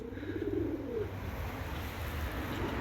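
A tumbler pigeon gives one low, burbling coo near the start, close to the listener. It then fades into a steady, rushing outdoor background with no talking.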